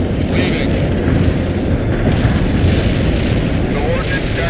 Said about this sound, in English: Artillery barrage in for full effect.